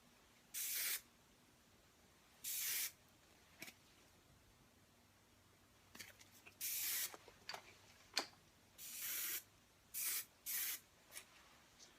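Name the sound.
hairspray being sprayed on hair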